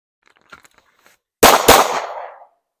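Two sharp pistol shots fired in quick succession at a USPSA live-fire competition, loud and close with a short ringing decay, after a few faint scattered clicks.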